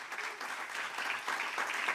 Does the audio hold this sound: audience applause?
yes